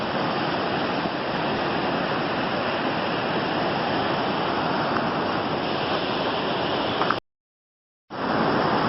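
A flooded Kansas creek on McDowell Creek Road, swollen by a severe hail storm, rushes loudly and steadily as dense broadband roaring water, briefly cutting out near the end before resuming.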